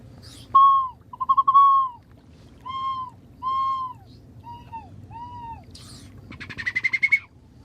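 A handheld water bird whistle chirps out a run of warbling, bubbly bird calls in short repeated bursts, ending in a rapid trill, loud and close over a low background rumble.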